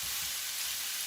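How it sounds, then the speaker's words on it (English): About a pound of hamburger meat browns in a skillet still slick with bacon drippings, giving a steady, close sizzle and crackle with no talking. "now in the same skillet, I'm browning about a pound of hamburger"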